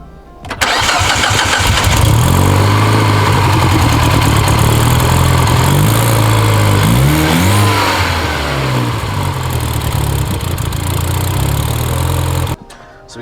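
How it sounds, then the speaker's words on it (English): A 1JZ engine with a new Greddy exhaust manifold, leaking at the manifold, starts and then idles loudly up close with a steady drone, rises briefly in revs midway, and cuts off near the end. "this exhaust leak is pretty bad"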